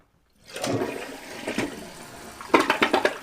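A newly installed toilet flushes in a small bathroom: a gush of water rises and swirls, then gurgles and drains in several sputtering bursts near the end, close and moderately loud, with no one speaking.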